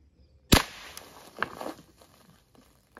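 A .22 caliber rifle shot strikes a PET bottle and makes it burst, one sharp loud crack followed by a short scattered clatter and rustle as the debris settles, then quiet outdoors.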